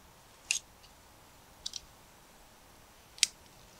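A birch twig is snipped just below the growth ring, giving three short, crisp clicks spaced about a second apart against a quiet outdoor background.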